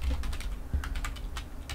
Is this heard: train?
no